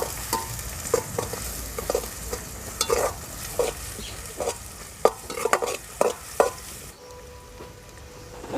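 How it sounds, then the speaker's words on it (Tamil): Onions sauté with green chili and crushed ginger and garlic for a village-style chicken gravy, a spatula rhythmically scraping and knocking the pan over a close sizzle before the stirring stops and the sound quiets. "வெங்காயம் நல்லா வதங்கிடுச்சு."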